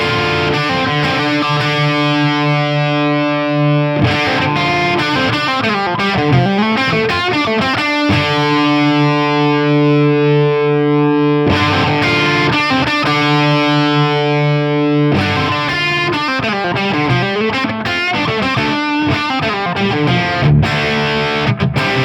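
A distorted electric guitar captured through a blend of a dynamic and a Stager ribbon microphone, playing loud sustained chords and riffs continuously for over twenty seconds, heard alone without talk.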